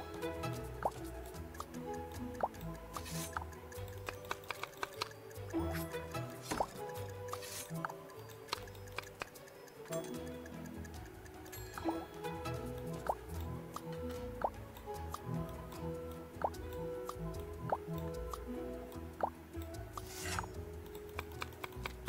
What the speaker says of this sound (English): Kind of sort of helps that I'm stirring in the right direction.